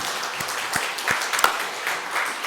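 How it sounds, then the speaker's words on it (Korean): Steady applause from a church congregation during an Easter service, a continuous wash of clapping with a few sharper individual claps standing out. "하나님께 영광의 박수 돌려드리겠습니다."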